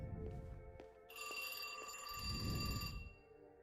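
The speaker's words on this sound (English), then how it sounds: "Holy shit, is that a phone?" A telephone rings in the video game Westworld Awakenings: a bright, steady electronic ring begins about a second in and holds for roughly two seconds over low background rumble and faint thuds, moderately loud.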